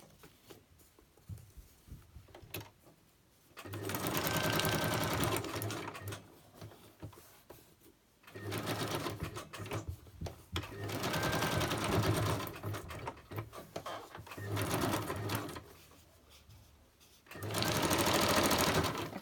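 A sewing machine runs in several bursts of rapid stitching, each a few seconds long, with quieter pauses between them.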